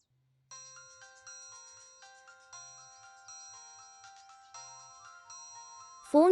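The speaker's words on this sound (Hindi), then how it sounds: "फोन बज रहा है।" A phone ringtone plays a repeating electronic melody of bright tones for about six seconds in a quiet room during a drama, ending in a louder burst.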